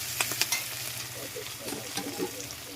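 Spring onions and green tomatoes fry in a wok, a steady, close sizzle broken by scraping stirs and small pops throughout.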